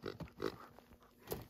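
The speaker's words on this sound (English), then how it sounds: "it's a Folkmanis pig puppet and it oinks" A Folkmanis pig puppet makes soft oinking grunts, a few short snorting bursts close by and fairly faint, followed by a final higher squeal.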